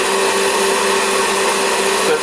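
An electric mixer beats egg whites toward firm peaks with a steady, loud motor whir and a constant droning hum, unbroken from start to finish.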